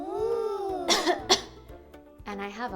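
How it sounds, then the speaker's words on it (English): A child-like voice gives a few short, breathy coughs in quick succession, close and fairly soft, followed by a voiced sound, with no other noise around. "And I have a cough, una tos."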